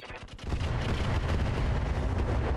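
Hydra weapons in a video game unleash a dense, sustained barrage of booming fire, a loud continuous roar of overlapping blasts starting sharply and holding steady to the end, with no voices.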